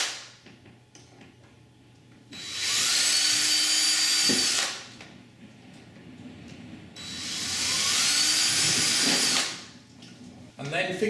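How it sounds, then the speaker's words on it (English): Power drill with a 3mm bit boring screw holes for tilt and turn window gearing, two sustained high whining bursts of about two seconds each, separated by quieter handling noise. "3mm drill bit."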